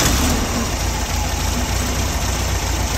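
A Volkswagen Beetle engine, one that stalls when hot, runs after being started during fuel pump checks, giving a steady close mechanical idle with even, slightly knocking pulses and no talk over it.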